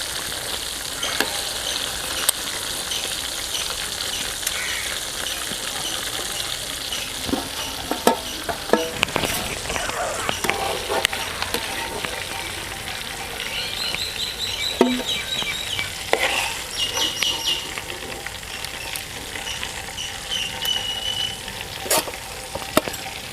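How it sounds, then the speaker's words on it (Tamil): KFC-style chicken pieces deep-frying in hot oil in a village kitchen, a dense continuous bubbling sizzle with occasional crackles and pops, close and steady throughout. "இப்போ நம்ம மிச்சம் இருக்க கறியையும் அதே மாதிரி பண்ணி பொரிச்சிட வேண்டியதான்"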